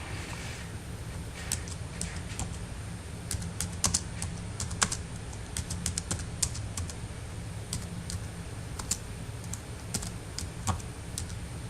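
Someone types on a computer keyboard: a quick, irregular run of close key clicks over a low background hum, with no speech.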